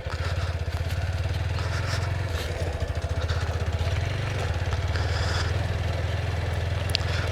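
A motorcycle engine runs steadily close by with a low, throbbing idle while the bike is maneuvered out of a tight spot, with light clatter and scuffing over the continuous rumble.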